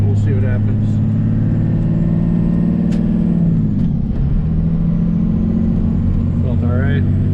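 Cab interior of a 24v Cummins diesel truck with a 47RE automatic transmission on a test drive, a steady low engine drone with a shift change midway, while someone talks intermittently over it.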